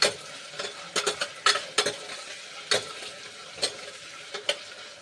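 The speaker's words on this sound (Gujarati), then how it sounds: "પછી આપણે ચણા અને ચણા અને બટેટા નાખી દઈશું સારી રીતે હલાવી લઈશું" Chickpeas and potatoes fry in a pan for a Gujarati cauliflower curry, with a soft sizzle under repeated sharp scraping and clacking strokes of a spoon stirring them.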